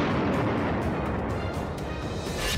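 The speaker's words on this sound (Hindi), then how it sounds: "इस मिसाइल को अमेरिकी वायुसेना की ग्लोबल स्ट्राइक कमांड ने कैलिफोर्निया के वैंडेनबर्ग स्पेस फोर्स बेस से लॉन्च किया है" A Minuteman III intercontinental ballistic missile is launched by the US Air Force Global Strike Command at Vandenberg Space Force Base, California, heard as a loud, continuous roaring rumble with no voices.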